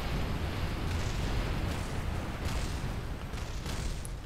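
Explosions in Kerbal Space Program, heard as a continuous loud roaring rumble of blasts and debris that stays dense throughout and eases slightly toward the end.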